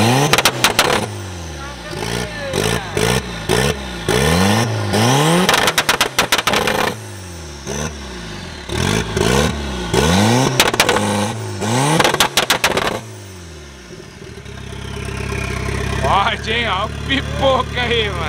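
A VW Gol GL turbo with a short exhaust, running on alcohol, is revved hard in repeated loud bursts that rise and fall, close by, then settles to a rough, lumpy idle.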